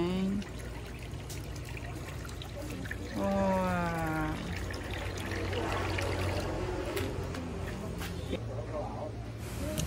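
Water pouring from a faucet at Bach Grillers in Culasi, Antique, a steady splashing rush close by, with a voice talking over part of it.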